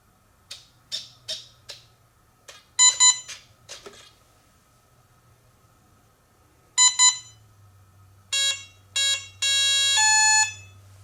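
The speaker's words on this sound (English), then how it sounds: "Wait for it to beep, go to idle." The ESC of an FMS P-51D 800mm RC plane beeps during throttle calibration: a run of short chirps, then pairs of sharp beeps, and finally a sustained tone. The beeps are near and clear over a faint low hum, with no talking.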